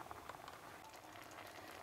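Ribollita, a Tuscan soup with black kale, bubbling and simmering in a covered pot, with soft steady burbling and small pops that are close but quiet.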